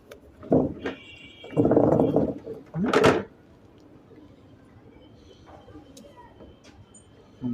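Lightweight breeder pigeons in a loft, soft cooing calls mixed with rustling and a sharp flap or scrape, close by, with a voice speaking briefly among them.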